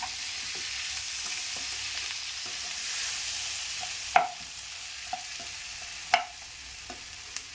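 Onions and tomatoes sizzle softly in a pan with a steady frying hiss, broken by occasional scrapes and taps of a stirring spoon.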